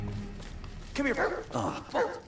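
A dog in the Blair Witch video game barks and yips in two or three short, close bursts that stand out against a quiet background, with no speech.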